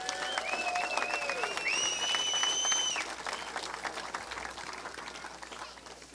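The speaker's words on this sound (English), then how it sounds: "let's hear one more round of applause for the parks" An event audience applauds in a sustained round of clapping for off-road parks, with whistles piercing the clapping early on and voices faintly mixed in.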